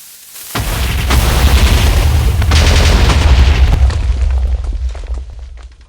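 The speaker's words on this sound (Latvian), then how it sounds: "Bet eksplozija ir mazāk kā parastajam dinamītam, bet troksnis tikpat lielāks." Thrown dynamite from the Balkons Weapons mod in Minecraft goes off in a single loud, close video-game explosion, a sharp crack followed by a long rumbling, crackling roar that slowly fades over several seconds.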